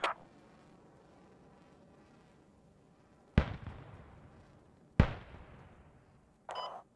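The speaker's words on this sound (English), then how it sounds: "Watch out. Rifle grenades." Rifle grenade explosions in the video game Squad: three sharp blasts, one at the start and two more a second and a half apart, each with a rumbling tail over low battlefield ambience, followed by a short burst of noise.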